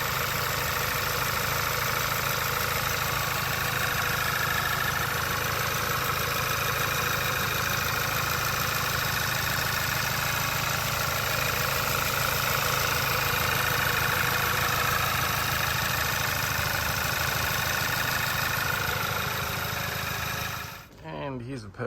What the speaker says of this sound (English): idling down nicely